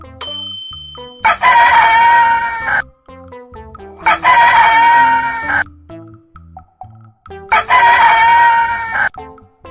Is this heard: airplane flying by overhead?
no